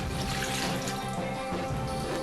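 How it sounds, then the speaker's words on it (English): Water and oil pour into cake mix in a bowl, a steady, quiet liquid splashing and trickling that runs unbroken for a couple of seconds, with no talk. "now let's add our water and oil that has already been pre-measured"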